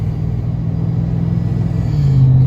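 A truck driven on a quiet rural road gives a steady, loud low engine rumble that swells slightly toward the end, with no talking.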